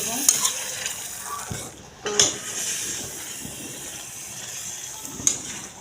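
Prawn malai curry with coconut and ghee cooks in a pan, a steady low sizzle broken by a few scraping stirs and clinks, no talking.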